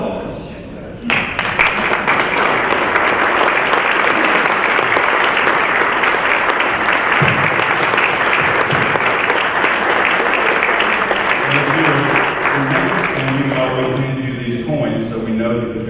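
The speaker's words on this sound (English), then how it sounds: "we want to give you one big round of applause." A big round of applause fills a Rotary Club meeting room, dense steady clapping from a seated crowd that starts abruptly and runs for several seconds before thinning as a voice begins speaking.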